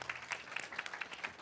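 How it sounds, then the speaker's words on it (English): Audience applause at an authors' panel on publishing at a book festival, a short burst of steady, fairly faint clapping from a crowd with no talk over it. "if we could clap it up for her for one more time"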